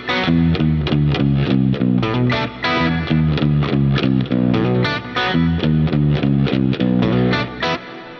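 Electric guitar with distortion and chorus effects plays a riff at a slow tempo, a loud repeating pattern of punchy chugged notes and brief gaps, heard alone.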